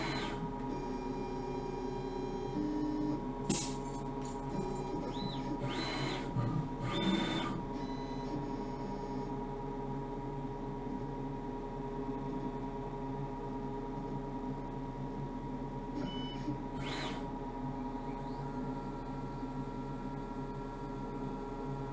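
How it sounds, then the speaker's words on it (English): A small CNC mill cuts the top side of a double-sided circuit board, giving off a steady mechanical whine and hum with brief higher-pitched tool passes, quiet and constant with no talking. "So we've machined the top of the board now"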